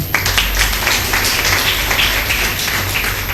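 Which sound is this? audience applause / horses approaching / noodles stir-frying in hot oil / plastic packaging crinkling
audience applause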